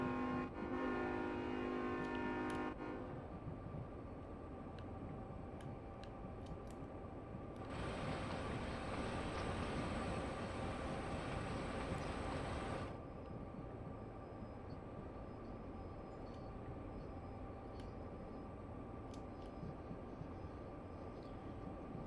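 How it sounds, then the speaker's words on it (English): A freight train rolls steadily on Sherman Hill in Train Sim World 2, with a continuous rumble throughout and a loud, sustained horn blast in the middle. "let's focus on stopping this train now"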